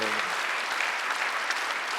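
Church congregation at a Sunday worship service breaking into loud, sustained applause, a dense wash of clapping filling the whole moment.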